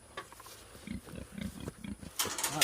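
Farm pigs grunt and snort in short, rough bursts at feeding time, the rhythmic grunts close by and overlapping, with a brief rustle or clatter near the end.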